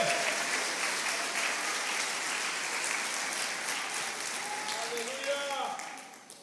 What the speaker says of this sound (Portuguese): Dê um aplauso ao Senhor hoje